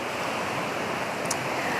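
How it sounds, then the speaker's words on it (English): Steady broadband wind rushes outdoors during rainy weather, a constant dense roar with no breaks, loud and close to the microphone throughout. "Windy."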